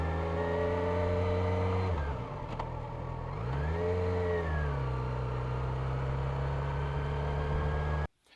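A motorcycle engine revs steadily, dips as the clutch engages, then pulls up again in a smooth rising and falling whine before cutting off, close and alone.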